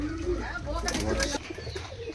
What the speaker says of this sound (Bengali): পাকিস্তানি শিয়ালকুটি পায়রা